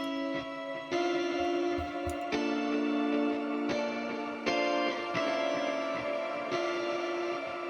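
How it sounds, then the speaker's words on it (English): Clean octave guitar played through reverb and delay, with a delay pedal before the amp smearing the notes; sustained chords change every second or so, washing into a dense, bright, continuous tail with no voices. "This is essentially a guitar rig, a bunch of reverb and delay, and also a delay pedal before the amp, so it smears everything."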